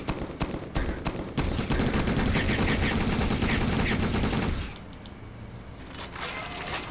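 Turret fire in a tower defence video game: rapid, continuous mechanical shooting at moderate level for several seconds, then thinning to sparse shots under a softer background.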